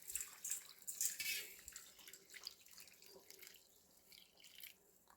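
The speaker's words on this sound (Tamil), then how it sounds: "தண்ணி ஊற்றி வேக வைக்கலாம் வாங்க." Water runs from a tap and splashes into a cooking pot, steady at first and then tapering to scattered drips and small splashes, close by and fairly quiet with no talking.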